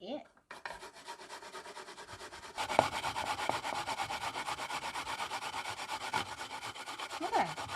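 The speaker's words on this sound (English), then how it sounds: "Do you know it's pear? And I grind it." A pear is grated for a bulgogi marinade, producing a close, steady, rhythmic scraping rasp that grows stronger partway through and continues without a break.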